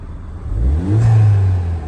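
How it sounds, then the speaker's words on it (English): Ford Fiesta ST3 fitted with an induction kit revs once at idle, the engine note rising into a loud, sustained throaty drone before easing back slightly; no talk over it. "And if we just give it a little bit of a rev,"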